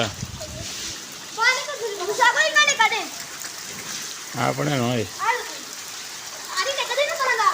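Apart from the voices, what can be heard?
heavy rain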